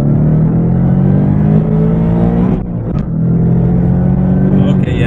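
A supercharged 2018 Roush Mustang pulls hard through the gears, its exhaust roaring loud and close from inside the cabin, with a brief dip at a shift before the engine note climbs again.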